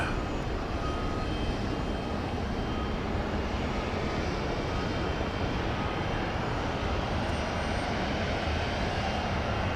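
Airplane at Dallas Love Field airport during night plane spotting, a steady loud broadband engine roar holding continuously throughout without pause, no voices heard.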